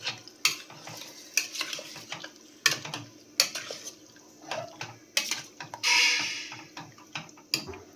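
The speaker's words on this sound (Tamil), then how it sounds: "ஹை ஃப்ளேம்லேயே வச்சு நல்லா வதக்கணும்." Mutton curry ingredients being sautéed in oil over a high flame, with repeated scraping and stirring strokes in a pan, a steady low sizzle underneath and a brief louder burst of frying near the end.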